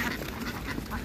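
Khaki Campbell ducks on a farm give a continuous, close, busy chorus of overlapping quacks with no pauses, lasting about a second.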